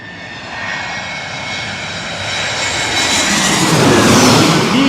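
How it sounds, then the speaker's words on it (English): Delta Airlines Airbus A321 jet airliner passing low overhead on approach to LaGuardia near East Elmhurst, Queens, a loud broadband jet roar that swells steadily as it nears, with no talk. "Coming up next is Delta Airlines, an Airbus A321 from Atlanta, Georgia."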